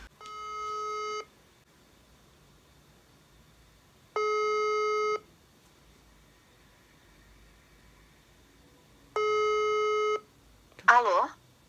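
A phone call rings out on speakerphone as three separate, evenly spaced electronic ringing tones, each about a second long, with quiet gaps between them. A short burst of voice follows right at the end.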